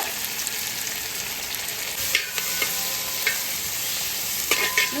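Onions frying in a pan with whole cinnamon, cloves, cardamom and peppercorns for a pulao: a steady close-up sizzle, with occasional stirring scrapes and crackles rising through the hiss.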